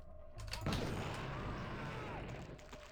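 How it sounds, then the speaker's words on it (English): A napalm launcher fires in the game Blood, a sudden loud whooshing burst that rolls into a sustained roaring, crackling rush lasting a few seconds. "Let's waste the napalm launcher on him."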